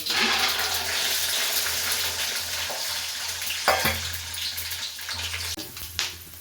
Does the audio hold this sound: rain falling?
no